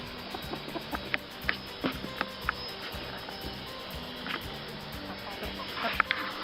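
A rooster gives soft, scattered clucks at close range over a faint, rustling background, with a louder squawk near the end.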